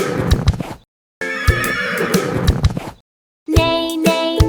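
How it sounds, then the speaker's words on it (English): A cartoon horse neighs loudly in three bright whinnying bursts separated by short silences, the last one sustained and ringing. "Listen, the horse goes, neigh."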